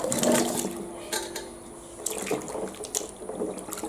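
Tap water runs and splashes over baby mangoes in a kitchen as they are soaked for pickle, a close, hissing flow that swells at the start, eases off, then returns in uneven bursts.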